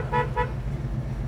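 A 1968 Ford Mustang horn gives two short, loud honks close by, over the low rumble of the idling engine.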